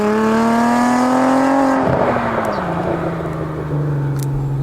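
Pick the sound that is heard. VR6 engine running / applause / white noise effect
VR6 engine running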